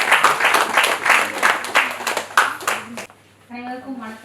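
A live audience claps and cheers to welcome a speaker onto a stage at a talk event, a dense burst of applause for about three seconds. The clapping then thins out as a voice starts speaking.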